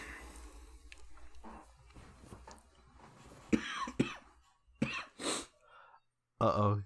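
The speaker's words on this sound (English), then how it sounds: "is coughing profusely" Several harsh coughs from a film burst out in short clusters, near and loud, separated by pauses and preceded by quieter background murmuring.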